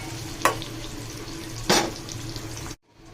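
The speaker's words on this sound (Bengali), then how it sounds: "আর এদিকে হচ্ছে আমি ডালটা বাগার দিই, রসুন আর পেঁয়াজ দিয়ে ডাল বাগার দিতে।" Garlic and onion fry in hot oil to temper dal, giving a steady close sizzle with two sharp bursts as ingredients hit the pan, then a sudden drop to near quiet at the end, with no talking.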